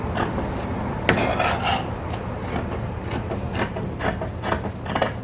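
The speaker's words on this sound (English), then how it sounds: "Now let me cut it out. We cut the back side first." Scissors cutting through a paper body block pattern along the back side, giving a steady rasping, rustling snip texture with a few sharper crisp cuts, close and continuous with no talk.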